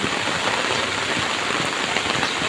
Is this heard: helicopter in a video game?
no